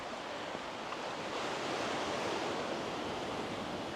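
Sea waves wash steadily against the black rock coast of Madeira, a continuous broadband surf roar, fairly soft and even, with no voices over it.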